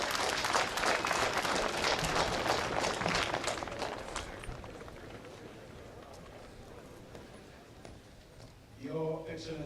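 Applause from a crowd at the Namibia Defence Force anniversary parade, a dense clatter of clapping that is strongest at first and slowly fades; a voice begins speaking near the end.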